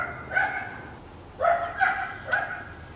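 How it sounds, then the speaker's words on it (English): A dog barks in a garage during work on a rear bumper, four moderately loud yips and barks in two loose bursts, close by over low background noise. "That dog."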